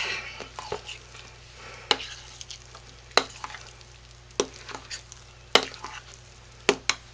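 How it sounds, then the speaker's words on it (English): Homemade lye soap mixture, scented with peppermint, is stirred in a bowl near the rim, giving close, irregular scraping and knocking strokes with sharp clacks against the bowl over a soft background hum. "I'm going to stir that up a little bit because I'm close to the rim on this bowl."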